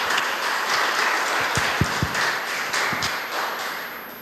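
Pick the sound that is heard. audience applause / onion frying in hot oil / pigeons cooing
audience applause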